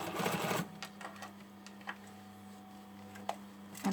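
A home sewing machine topstitches the neck edge of a hoodie made from a Burda 6315 pattern. A steady motor hum runs under faint ticking and a few sharp clicks, after a louder rustling burst at the start.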